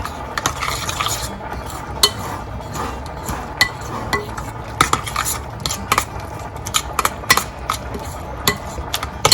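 A spoon scrapes and clinks against a bowl while macaroni salad with shredded carrot is stirred, with irregular close taps and knocks over a soft wet churning.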